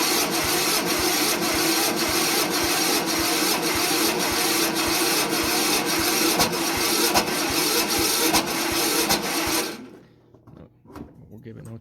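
An MTD Yard Machines lawn tractor engine on a cold start cranks and runs with a loud, rapid, steady chugging for about ten seconds, then cuts out abruptly, leaving faint noises.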